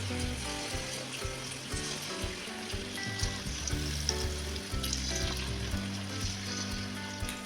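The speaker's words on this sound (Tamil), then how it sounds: "இதில் இந்த காலிஃப்ளவரை போட்டு பொறிச்சு எடுத்துடலாம்" Steady sizzling and bubbling of cauliflower deep frying in hot oil, continuous and close, with occasional faint clinks and no talking.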